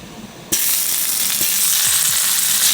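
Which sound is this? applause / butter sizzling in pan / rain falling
butter sizzling in pan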